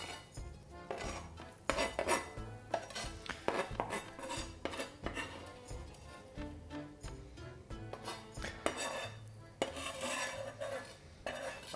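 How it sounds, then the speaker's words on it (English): Food is scraped off a chopping board into an overfull pan of borscht with tomatoes: close, repeated clattering scrapes and knocks of a utensil against board and pan, with kitchen clinks throughout. "I'm trying to scrape things off a chopping board"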